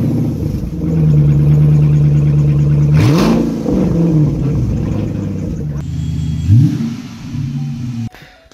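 A truck engine with big exhaust tips revs up and settles several times, a deep rumbling note rising in quick bursts and holding steady between them, loud and close.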